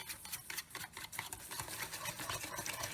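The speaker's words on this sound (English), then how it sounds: "I'm going to just stir that up." Barbecue sauce and brown sugar stirred together in a bowl, a steady close scraping and swishing with soft clinks running throughout, moderately quiet.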